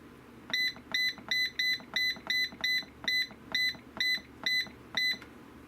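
An electronic canning timer on a stovetop setup gives about eleven evenly spaced high electronic beeps in a quick regular rhythm while 75 minutes is entered, fairly quiet against a faint low background hum.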